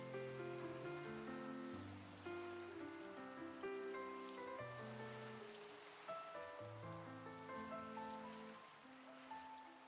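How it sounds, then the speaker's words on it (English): Steady rain patters and hisses onto water in Minecraft beneath a loud, sustained melodic music track that carries on throughout. "I love the sound of the rain hitting the water"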